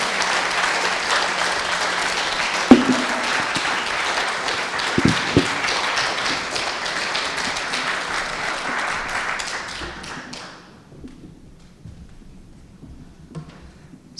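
An audience at a civic design lab event breaks into dense, sustained applause that stays loud and steady for about ten seconds before quickly dying away into a quiet room.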